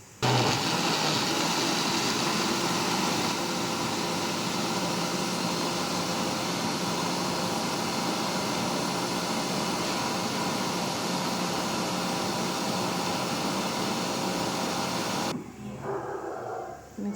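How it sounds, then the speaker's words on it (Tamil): A kitchen mixer grinder blends ABC juice in its jar, a loud, steady whirring roar for about fifteen seconds before the motor cuts off and winds down. "ஜாரில் போட்டுட்டு இப்போ மிக்ஸியை நான் வந்து ஆன் பண்ண போகிறேன்."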